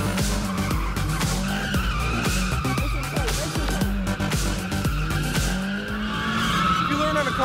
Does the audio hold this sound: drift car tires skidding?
yes